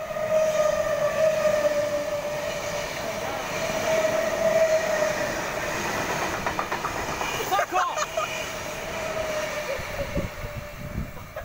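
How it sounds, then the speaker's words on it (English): A Central-bound Sydney V set passenger train passes through platform 1 at Werrington station, a steady loud rumble and hum with rhythmic wheel clatter over rail joints, near and continuous throughout. "Central bound V set passing through platform 1."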